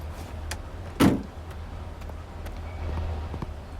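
A car drives up in a video game, a low steady engine hum with a single heavier thump about a second in, then continuing rumble.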